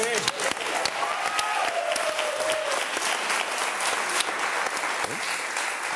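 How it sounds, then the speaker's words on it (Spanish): Studio audience applause for Luis on a talk show: a loud, dense wash of clapping that holds steady throughout, with voices speaking briefly over it. "Un aplauso para Luis"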